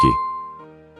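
A single bright notification bell dings once, a clear struck tone that rings on and slowly fades within a second.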